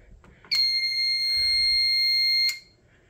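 A loud, piercing electronic alarm tone from a fire alarm control panel sounds steadily for about two seconds and then cuts off, with faint clicks before and after.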